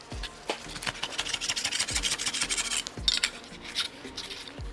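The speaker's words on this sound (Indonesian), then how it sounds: "Cara memotong edging PVC bisa menggunakan sama seperti tadi, pakai menggunakan siku" PVC edging trimmed against a square while building a kitchen cabinet door: a steady dry rasping and rubbing with a few sharp knocks, close and fairly quiet, without talk.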